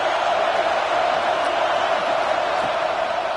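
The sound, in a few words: football stadium crowd cheering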